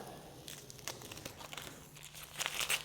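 Tape peeled off freshly cut particle board after a pass with a Ryobi ONE+ HP 18V brushless 7-1/4 inch cordless circular saw, a quiet close crinkling and tearing that grows louder and scratchier toward the end.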